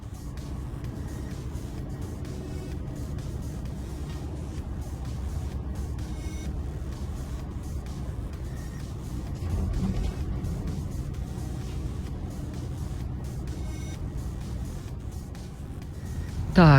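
A heavy truck idles and pulls away, its low engine rumble steady and continuous throughout, swelling slightly near the middle and ending with a louder thump.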